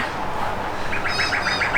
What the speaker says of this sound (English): The birds have joined us this morning.